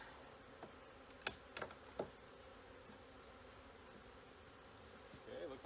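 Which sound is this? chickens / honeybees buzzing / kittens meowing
honeybees buzzing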